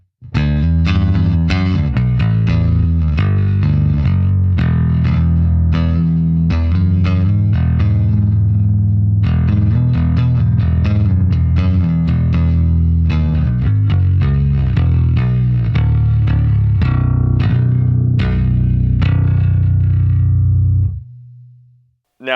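A deep, distorted Dingwall NG3 five-string electric bass on the neck pickup with flat EQ plays a busy, driving line, with dense notes ringing steadily and loudly for about twenty seconds before cutting off.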